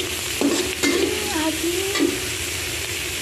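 Bean sprouts being sautéed in a pan, stirred with a few sharp scraping strokes over a continuous loud sizzle, close up.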